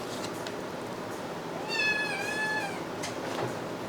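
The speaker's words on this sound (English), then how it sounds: "Pardon the kitties." A cat gives a single drawn-out, wavering meow, close and clear over a quiet room hum.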